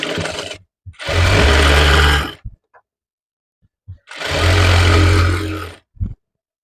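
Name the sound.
sewing machine stitching a prince cut blouse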